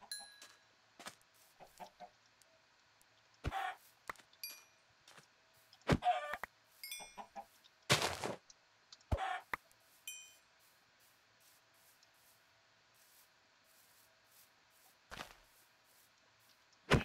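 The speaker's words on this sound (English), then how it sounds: "Get back here, chicken." Chickens in the video game Minecraft cluck in brief scattered bursts among clicks and small hits, fairly faint and sparse with quiet stretches between.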